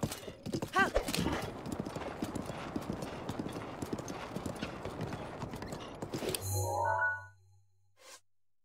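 Rapid clip-clop of horse hooves trotting steadily in The Legend of Zelda: Breath of the Wild, then stopping, followed by a short mechanical whir and a faint neigh-like tone before silence.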